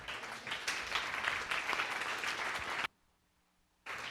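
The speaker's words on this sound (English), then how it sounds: "So give her a round of applause, everybody." A conference audience applauds a speaker at a programming talk, a dense burst of clapping that cuts off abruptly before a brief resumption.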